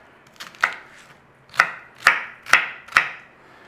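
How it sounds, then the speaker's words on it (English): Knife dicing onion on a cutting board for a beef and potato bake, sharp crisp chops ringing out alone, a couple of light taps then four evenly spaced strokes close by. "basically we are just dicing onion"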